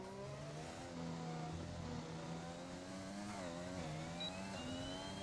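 A race car on a flying lap around Spa in a racing game gives a steady engine drone whose pitch climbs and drops with gear changes and throttle, heard alone and fairly close.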